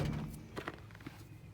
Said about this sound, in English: the door shuts, boom, and it opens.